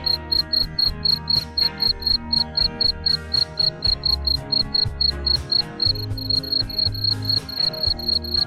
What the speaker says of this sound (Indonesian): Dalam masa perkawinan, jangkrik jantan akan mengeluarkan suara dering terus-menerus.